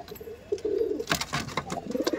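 Giribaj high-flying pigeons at a loft give a brief, soft coo, with other faint bird sounds close by in a short moment.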